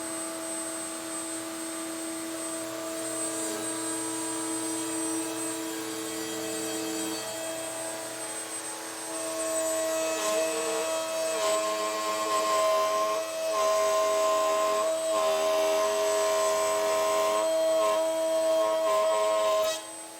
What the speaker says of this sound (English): Plant the workpiece in back, lower it down into the spinning bit, and then proceed through with the cut. So let's go ahead and make that drop cut now.